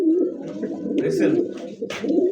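A show-quality Continental pigeon gives a short run of close, throaty coos, with a brief rustle and a sharp noise breaking in near the end and faint voices behind.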